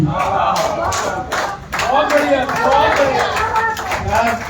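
Audience applause at a Hindi poetry reading during a Chennai literary festival, a sustained, fairly loud wash of clapping from a crowd with a brief dip partway through, continuing steadily to the end.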